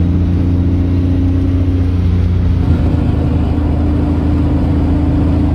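Deep, loud rumble of a Lamborghini Diablo sports car engine idling close by, steady and throaty with no voices.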